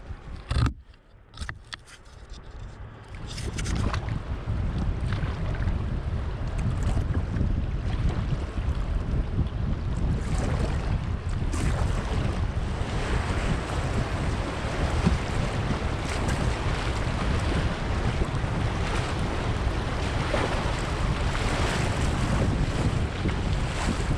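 A kayak runs the Colorado River rapids near Moab, Utah, with a loud, steady rush of churning whitewater and wind buffeting the microphone. The roar holds from a few seconds in to the end, with no talk.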